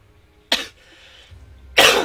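Two separate coughs from one nearby person, each a short harsh burst, with a quiet pause between them and no talking.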